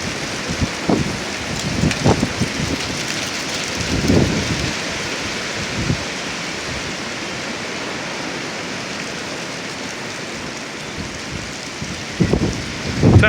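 Strong windstorm gusts in northern Oklahoma roar continuously as a broad, steady rush, with heavier buffeting bursts swelling near the start, middle and end.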